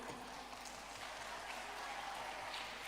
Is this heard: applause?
yes